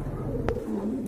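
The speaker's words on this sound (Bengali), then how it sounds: "খুবই সুন্দর, অনেক বড় সাইজের কবুতর, হেলদি কবুতর মাশাআল্লাহ" Large, healthy pigeons at a pigeon sale give a soft, low cooing that runs steadily beneath the room's background noise, with a brief sharp noise partway through.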